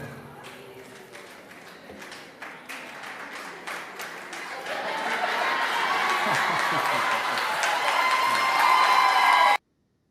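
An audience at a school board meeting in Rochester breaks into cheering and applause. The noise swells in volume and holds, then cuts off abruptly, with scattered voices mixed in.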